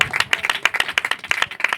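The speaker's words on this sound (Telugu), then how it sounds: "చప్పట్లు కొట్టండి." A group claps hands in quick, steady rhythm at a prayer and praise meeting held in a home, the sharp claps close and lively for the whole stretch.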